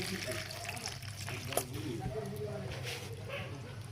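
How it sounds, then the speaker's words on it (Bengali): Tamarind is worked by hand into water in a bowl, giving soft, close squishing and gentle trickling with a faint low voice in the background. "তার জন্য আমরা এই তেঁতুল গুলে নিচ্ছি"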